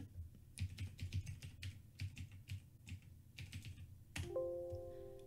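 Quick, close keystrokes on a computer keyboard, with a few faster bursts of typing, followed by a short electronic chime that rings out at the end.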